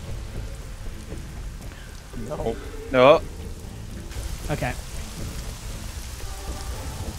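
Steady rain hisses through a stormy level of the video game Hitman: Blood Money, with rumbles of thunder under it. Someone speaks briefly over the constant downpour.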